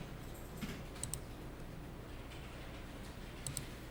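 Light keystrokes on a computer keyboard during accounting software entry, a few quiet scattered clicks over a low background hum.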